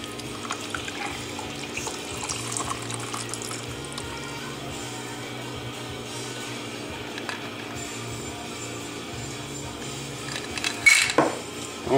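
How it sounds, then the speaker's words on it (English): A steady soft stream of a Fuzzy Navel cocktail pouring into a glass, continuous and close, ending with a brief clink near the end. "Pour it in."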